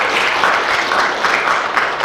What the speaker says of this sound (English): Can we have another round of applause for all of the 4 speakers,